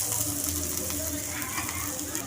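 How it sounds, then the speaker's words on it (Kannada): Onion and green chilli frying in ghee in a small pan, a steady close sizzle with faint stirring under light background noise. "ಈರುಳ್ಳಿ ಚೆನ್ನಾಗಿ ಫ್ರೈ ಮಾಡ್ಕೊಳ್ಳೋಣ"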